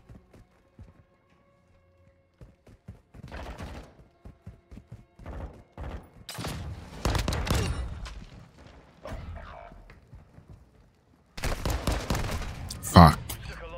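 Gunfire from an M16 and a pistol in Call of Duty: Modern Warfare 2 multiplayer: scattered single shots build into dense, overlapping bursts, ending in a loud close volley.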